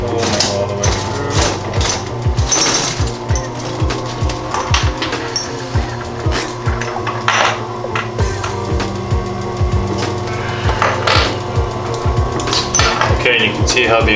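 A sewing machine stitches through leather for a duffle bag, its needle pounding in a rapid, regular mechanical rhythm that runs steadily and loudly for the whole stretch, pausing briefly now and then.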